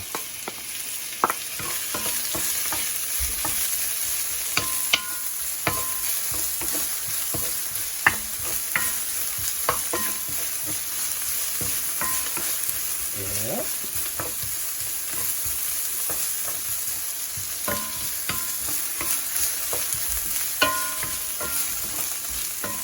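Fish ball fried rice with onion stir-fried in a pan, giving a steady sizzle with frequent scraping and clinking of the spatula, close and alone without talk.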